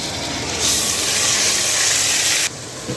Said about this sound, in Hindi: प्याज को हम हल्का ब्राउन कर लेंगे, जैसे गोल्डन सी शक्ल आएगी।